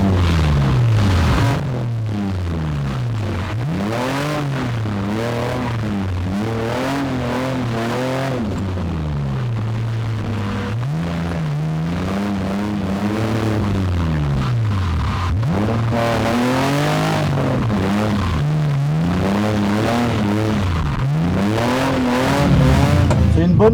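A BMW E92 drift car sliding around a track during a training session, its engine revving hard and rising and falling continuously in loud sweeping surges, with occasional tire noise and voices talking underneath.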